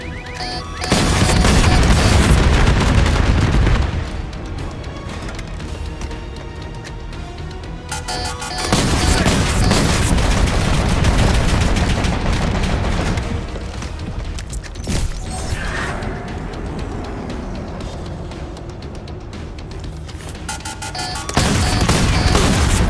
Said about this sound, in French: Tir ennemi!